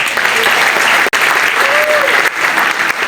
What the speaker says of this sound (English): Let's give a big round of applause for Alia again.